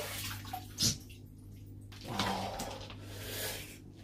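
Water sloshes and splashes as someone climbs out of a cold water plunge tub, with a sharp knock and rippling swirls against a steady low hum, no talking.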